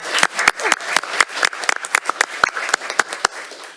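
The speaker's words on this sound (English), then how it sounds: "everybody give yourself a round of applause" Audience applause greets the kickoff of an annual virtual school fun run at a district meeting: a short, thin burst of separate claps from a small group, close and uneven, with no talk over it.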